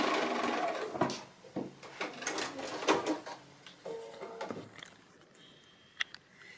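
Sewing machine stitching a seam on a fabric Christmas robin, several short bursts of clattering needle runs with pauses and handling of the cloth between, close and moderately loud.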